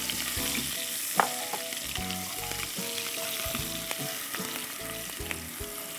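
Chopped onion and garlic sizzle steadily in hot oil in a pan for a bottle gourd and shrimp dish, with a constant crackling hiss, occasional stirring clatter and no talk.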